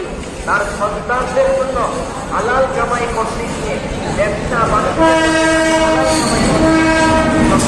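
A Narayanganj commuter train's horn blares in sustained steady tones over the train's rumble at Gandaria railway station, with people talking in the background before it sounds.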